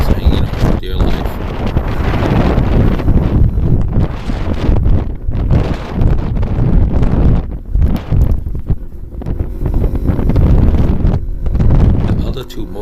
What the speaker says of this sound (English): It's kind of windy and I'm just hanging on for dear life.